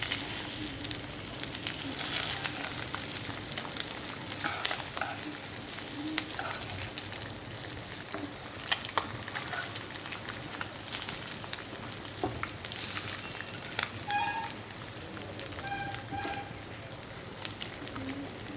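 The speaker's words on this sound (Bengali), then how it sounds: "এক পিঠ আমার ভাজা হয়ে গেছে, অপর পিঠটা যাতে ভাজা হয়" An egg fries in a pan on a gas stove, a steady crackling sizzle with scattered pops and spits that holds throughout, close and fairly loud.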